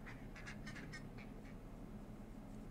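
Ducks in the video game Milo and the Christmas Gift let out a quick run of soft quacks early on, faint and distant over a low, steady background hum.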